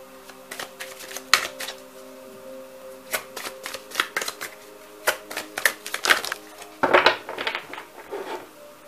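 Tarot cards are shuffled and drawn close to the microphone, a series of quick papery riffles, flicks and soft taps in uneven bursts, with a low hum behind.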